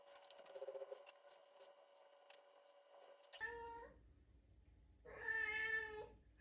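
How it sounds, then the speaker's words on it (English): A pet cat meows twice indoors, one short call followed by a longer drawn-out meow, each loud and clear against a quiet background after some faint earlier sounds. "My cat."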